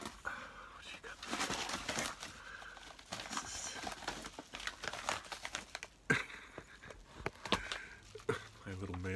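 A dog tears and shreds paper mail, producing soft crinkling and ripping sounds in irregular bursts, close and fairly quiet, with a person speaking softly over it.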